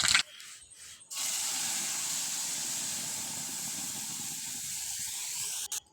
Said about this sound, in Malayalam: ഇതിലേക്ക് ഞാൻ കടുകാണ് ഇട്ട് കൊടുക്കുന്നത്.